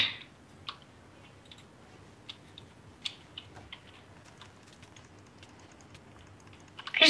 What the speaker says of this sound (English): I just hear a mouse clicking in the background.